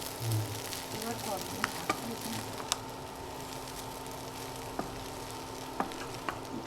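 Egg noodles being tossed and mixed with vegetables in a hot pan, a steady soft sizzle with scattered light clicks and scrapes of a utensil, close and moderately quiet.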